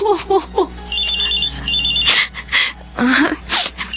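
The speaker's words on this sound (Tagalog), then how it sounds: "Ang cellphone ko." A cellphone rings in a Filipino radio drama with a repeated electronic ringtone trill, loud and close. Dramatic voices and sound effects surround it.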